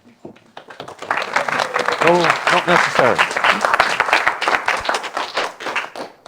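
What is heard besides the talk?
audience clapping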